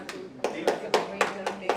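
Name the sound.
audience applause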